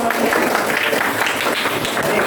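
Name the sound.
classroom clapping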